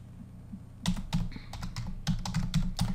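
Quick bursts of keyboard typing, several sharp close key clicks in uneven clusters after a brief quiet start, with no voices.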